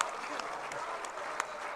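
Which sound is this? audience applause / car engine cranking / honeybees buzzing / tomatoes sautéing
audience applause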